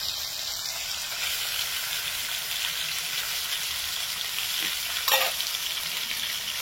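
Fried shrimp with ground paste hisses steadily in a pan while being stirred, a continuous moderate sizzle broken by one brief clatter of the spoon near the end.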